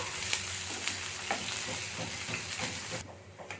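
Finely chopped onions with cumin fry in hot oil, a soft, steady sizzle with intermittent spatula scrapes and taps, fairly quiet and close.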